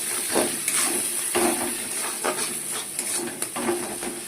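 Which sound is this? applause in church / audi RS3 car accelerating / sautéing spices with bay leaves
sautéing spices with bay leaves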